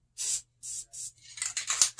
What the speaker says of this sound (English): let's clear this nozzle